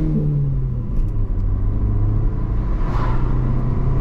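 A Rover 25 1.4 car on the move with its engine droning and rumbling steadily from inside the cabin, with a low pitch that rises slightly as it revs, plus faint road noise.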